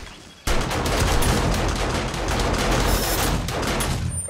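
Rapid gunfire in 7 Days To Die during a horde night, a sudden loud start into a sustained stream of close, evenly spaced automatic shots lasting several seconds, with no talk over it.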